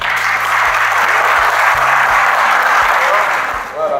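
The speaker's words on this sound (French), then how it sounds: "vous pouvez vous applaudir" A gathering on a solidarity trip in Senegal applauds steadily for a few seconds, dense clapping over a low sustained musical drone, easing off at the end.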